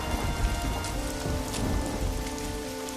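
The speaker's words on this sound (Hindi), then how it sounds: "वे लोग भारी बारिश और तूफान में बहुत आशा और उम्मीद के साथ रमेश के घर की ओर चल दिए" Heavy rain pours steadily in a storm, a dense continuous hiss of drops striking surfaces with low rumbling underneath, loud and unbroken with no voices.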